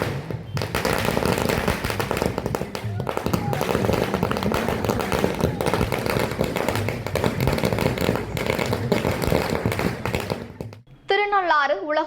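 Strings of firecrackers burst at a local celebration where sweets are handed out, a dense, loud, rapid crackling that barely pauses for about eleven seconds before cutting off into quieter sounds.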